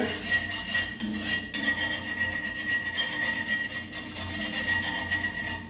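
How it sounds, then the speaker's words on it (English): A whisk scrapes and rubs steadily through bacon and flour in a pan as a roux is made for mac and cheese, giving a continuous, moderately quiet scratching with no one talking. "so we'll cook this with a whisk for a while"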